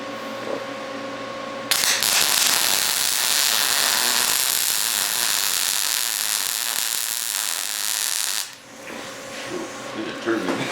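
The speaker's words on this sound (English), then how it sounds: "I'm gonna run over this weld one more time, even though it looks good" Welder running a second pass over an existing weld bead with holes in it, on a Bronco II project: a loud, close, continuous crackling buzz for several seconds, starting and stopping abruptly.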